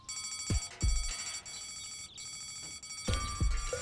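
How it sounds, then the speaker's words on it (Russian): An electronic alarm bell rings steadily in the video game Deponia, with a few sharp low thumps breaking through at irregular moments, loud and close. "сработала сигнализация"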